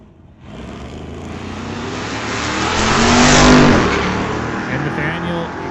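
Drag race cars launch side by side, a Chevrolet Malibu and a 2018 Ford Mustang, engines roaring loud and steady with a rising surge mid-run, under a voice.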